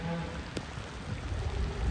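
Steady outdoor rain falling in a downpour, with a constant patter and hiss close around the microphone and a faint brief tick partway through.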